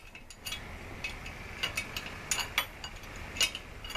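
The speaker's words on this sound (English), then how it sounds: "So we'll struggle bust with the wrench." Metal wrench ratcheting and clicking on a bolt being snugged down, a string of faint, irregular mechanical clicks spread across a quiet background with no talking.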